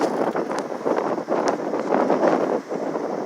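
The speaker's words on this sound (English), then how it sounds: "Wow, it's windy." Strong wind buffeting outdoors near mountains, loud rumbling gusts hitting the microphone in uneven surges with brief lulls, continuous and close, no speech.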